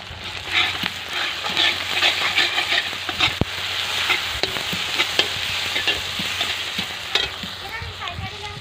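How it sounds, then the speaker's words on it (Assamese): A spice paste for fish gravy fries in a pan with a loud, continuous sizzle and dense crackling, broken by scraping stirs and occasional sharp ticks of the utensil, close up and without talk. "এয়া পূৰা মাছৰ গ্ৰেভি কাৰণে মছলাটো ফ্ৰাই হৈ আছে"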